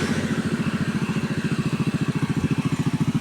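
A 210 cc style motorcycle idles nearby with a rapid, even, pulsing putter that stays steady for a few seconds, with no voices over it.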